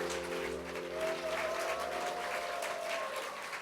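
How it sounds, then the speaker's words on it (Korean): Audience applause at a Korean church gospel concert, steady sustained clapping throughout, fairly loud and full, with a faint sung or spoken tone drifting beneath it. "하나님께 우리 큰 영광의 박수 올려드리겠습니다"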